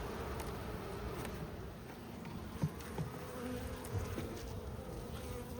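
Honeybees buzz inside a hive during an inspection before swarm season, making a soft, continuous drone with brief louder passes from individual bees close by, and no talking.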